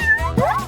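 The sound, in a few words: cat meowing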